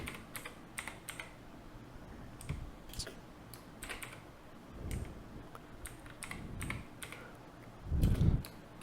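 Quiet, close typing on a computer keyboard gives irregular bursts of clicking keystrokes, with a few heavier thumps mixed in and no talking.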